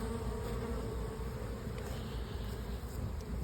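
Honey bees buzz steadily around the hive as the colony clears out dead bees from the bottom board, a dense, unbroken drone heard up close.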